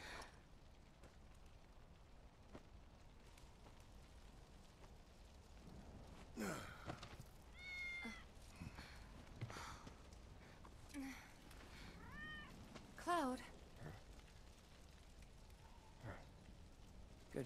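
Cat meowing in the video game Final Fantasy 7 Remake, a few soft, short meows in a quiet scene among faint ambient noise and brief sighs.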